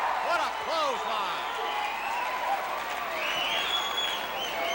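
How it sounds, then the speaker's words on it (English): A capacity wrestling arena crowd cheers and applauds in a sustained, dense roar, with a commentator's voice speaking over the noise. "This capacity crowd coming alive"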